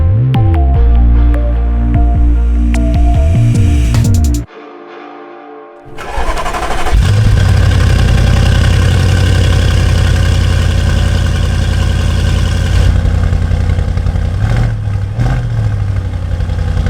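A 700 brake horsepower Audi RS6 cranks and fires into a loud, deep engine roar, then settles into a steady close idle with occasional blips.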